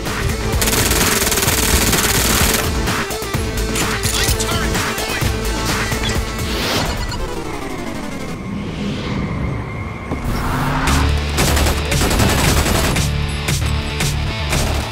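Rapid, sustained automatic gunfire from the first-person shooter Brink, loud and dense throughout, with bursts overlapping swooshing movement and background game noise.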